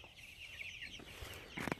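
Chickens in pasture chicken tractors on a farm, clucking and squawking at close range with a louder burst of clucks near the end; no talking.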